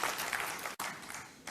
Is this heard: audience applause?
yes